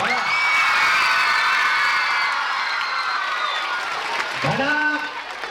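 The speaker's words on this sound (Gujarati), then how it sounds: "જોરદાર તાળી થઈ જાય." Applause and cheering from a crowd of teachers and students at a birthday gathering, a dense sustained wash of clapping with whoops, then a voice cutting in near the end.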